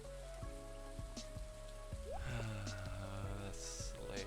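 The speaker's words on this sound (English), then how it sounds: "Oh, rainy day." Rain falls steadily in the video game Stardew Valley, a soft continuous patter of drops running beneath the game's melodic background music throughout.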